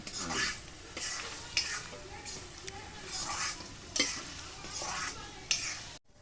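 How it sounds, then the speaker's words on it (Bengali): Meat and potatoes sautéing in a pot over a wood fire, a steady sizzle with rhythmic scraping strokes of a stirring spoon at roughly one-second intervals, heard from a little distance. "এবার আলু দিয়ে মাংসটাকে কষানো হচ্ছে"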